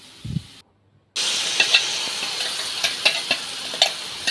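Tomato paste hits a hot pan with ginger garlic paste for pasta, bursting into a loud, steady sizzle after a short pause, with light stirring clicks scattered through the frying.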